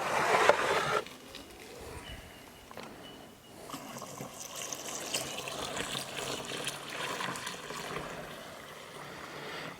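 Five litres of water pours into a home-brewing fermenter of wort from an extract kit, a brief louder splash at first, then a soft, steady trickle and gurgle close by.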